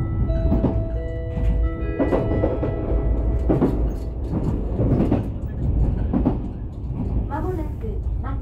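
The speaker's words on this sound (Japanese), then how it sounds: "この特急電車は通過します" An Odakyu Romancecar EXE express train runs at speed with a constant heavy rumble and repeated rhythmic thunks over rail joints, heard from inside the train, with a voice speaking over it.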